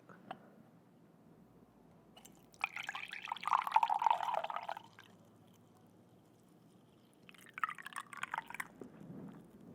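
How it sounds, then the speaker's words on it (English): Warm, previously boiled water poured from close range into a teacup, coming as two separate pours, a longer one and then a shorter one, quiet and intimate with no talking. "So I will put some water in your teacup."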